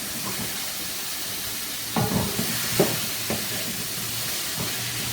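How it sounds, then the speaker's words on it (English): Green onion and vegetables sautéing in a pot for fried rice, a steady broad sizzle and hiss with a few soft scraping stirs of a utensil, no talking. "Add our green onion in. Give our pot a stir."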